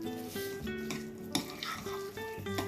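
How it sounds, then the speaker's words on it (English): Pressure-cooked minced meat and chana dal being mixed and mashed together for shami kebabs, a continuous close clatter and scrape of a spoon against a metal pot with faint sizzle-like hiss, no talk. "I'm going to mix it together."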